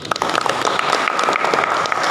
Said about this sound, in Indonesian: tepuk tangan untuk Muhid.